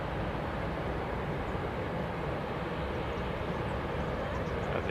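A fixed-wing airplane takes off from the runway at Kelowna airport in British Columbia, heard as a steady, distant broadband engine roar that holds even throughout.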